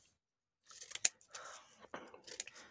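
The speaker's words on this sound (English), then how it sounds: "So I want to cut this more random." Scissors snip through card for a journaling craft, giving a handful of quiet, close, crisp cuts in short irregular bursts after a moment of silence.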